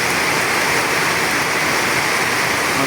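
Heavy rain pouring down on a roof at night, a sudden downpour, a dense, loud, unbroken hiss that fills the whole stretch with no voices.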